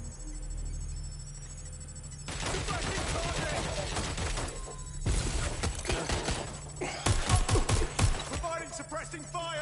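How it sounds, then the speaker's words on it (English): Rapid bursts of automatic gunfire ring out in the video game Watch Dogs: Legion, several clustered volleys of crackling shots amid game sound effects, with voices talking at times. "Providing suppressing fire!"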